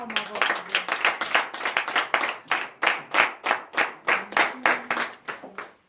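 A worship congregation at a morning prayer service claps in steady rhythmic unison, about three sharp claps per second, with faint voices mixed beneath the beat.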